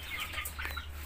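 Chickens clucking on a village farm in a continuous, moderately loud flurry of short calls over a steady low hum, with no talk.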